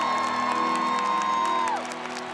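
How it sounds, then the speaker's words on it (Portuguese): Crowd claps and cheers at a Christian worship concert at Acampamento PHN, a steady wash of hands and voices under a long sustained musical note that drops away near the end. "Aplauda o Senhor Jesus com toda a"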